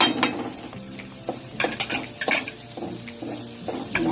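Ginger goes into a pan of sautéing garlic, with soft sizzling under clinks and scrapes of a utensil against the pan, fairly quiet and close.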